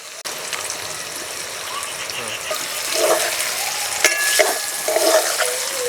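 Chicken pieces fry lightly in a pan of hot oil for a chicken and potato dum dish, giving a steady close sizzle with occasional bubbling surges and soft clinks of stirring.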